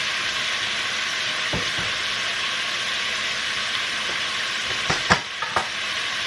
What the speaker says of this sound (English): we're just browning that sausage until it gets cooked most of the way